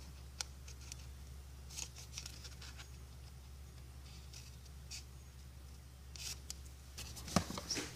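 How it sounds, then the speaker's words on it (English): Scissors snip into folded paper up to a score line for a small sticky-note holder craft, giving a few quiet, sparse cuts and faint paper rustles close by in a calm room. "you're going to snip up to that score line"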